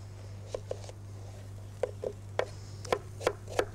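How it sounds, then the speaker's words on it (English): Knife slicing through an onion for a hot-plate vegetable dish, heard as a handful of soft, close cutting taps in uneven pairs over a steady low hum. "So start off by slicing your onion."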